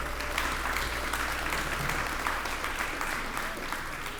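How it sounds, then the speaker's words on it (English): A crowd at a ribbon-cutting for a Savannah community center gives a round of applause, moderately distant and even clapping over a low steady hum, holding level throughout. "Y'all give them all a big round of applause."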